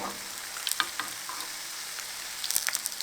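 Lentil dumplings (bhalla) sizzle softly in hot cooking oil, a steady, quiet fizzing broken by a few sharper crackles and pops, with no talking.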